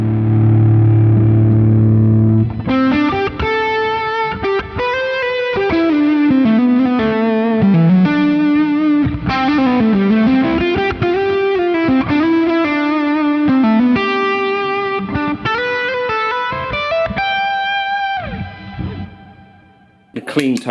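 Electric guitar played through a Euphoria overdrive pedal, with a low spoken voice briefly at the start, then about eighteen seconds of sustained driven chords and melodic lines with clear harmonics, ending abruptly.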